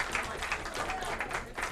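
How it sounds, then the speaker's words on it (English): A brief burst of crowd applause greets a woman named Donna at a Vashon Island Unitarian gathering, a short, moderately quiet patter of many hands clapping with faint voices mixed in. "Let's give her a round of applause."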